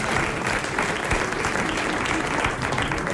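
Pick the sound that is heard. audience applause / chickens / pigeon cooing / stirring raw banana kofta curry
audience applause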